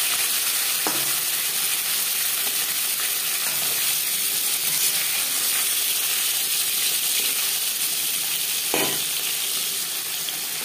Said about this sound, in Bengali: মাছ আমি হালকা করে ভেজে নেব